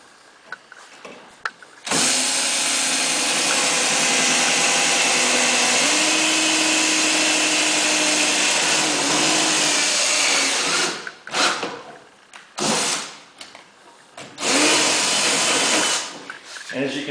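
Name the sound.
power drill drilling pilot holes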